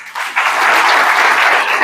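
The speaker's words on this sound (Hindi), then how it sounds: "ताली बजा दो एक बार।" An audience bursts into sustained applause at a motivational gathering, with a dense, steady clatter of many hands clapping after a brief quieter start.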